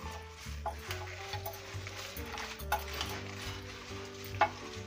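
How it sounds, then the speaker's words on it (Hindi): Whole spices and broken bay leaves dry-roasting in a pan for biryani masala, stirred with repeated scraping and rustling strokes and a sharp clink near the end, fairly quiet and close. "चलाते हुए हम थोड़ी देर इसे भूनेंगे।"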